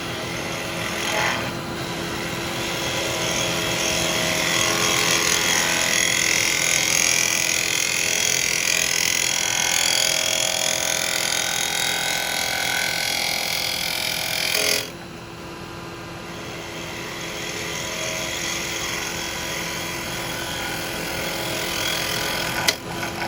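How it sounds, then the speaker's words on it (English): A woodturning lathe readied for turning a candlestick switches on and spins up, a loud steady whirring hum with a rising whine that drops in level partway through, no talking. "I'm just going to turn it on, let it spin up first."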